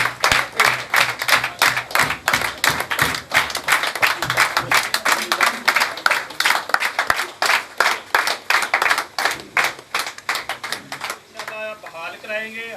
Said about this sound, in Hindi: आपकी भरपूर तालियों में दावत ख़िताब देता हूँ मेरे छोटे भाई जनाब चौधरी बिशारत हुसैन